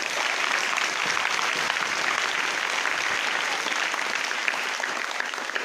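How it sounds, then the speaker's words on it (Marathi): A school audience of students and teachers applauds in a hall, loud continuous clapping that stays strong and uniform throughout. "शेवटच्या टाळ्या नाहीत ना ह्या।"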